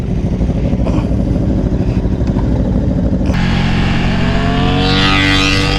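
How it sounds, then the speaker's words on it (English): An Aprilia Tuono V4 motorcycle fitted with a LeoVince exhaust revs loudly and steadily, joined by another engine, with a rising whine that climbs in pitch toward the end as the bike accelerates close by. "Oh, Aprilia sounds so good."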